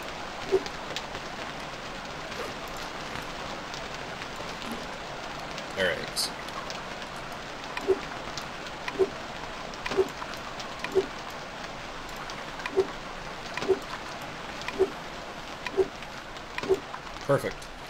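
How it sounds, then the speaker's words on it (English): Rain falls steadily in the survival video game Stranded Deep, a constant soft hiss with occasional louder drops, faint and continuous throughout. "Sounds like it's stopping raining"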